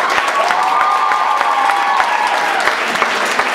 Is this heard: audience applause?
yes